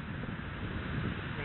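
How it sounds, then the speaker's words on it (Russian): Bicycle on a highway road, tires and wind through the spokes giving a steady, breathy rushing hum that holds without break for the whole moment. "При езде по шоссе велосипед издает шинами, ну и, видимо, потоком ветра в спицах такой вот шум"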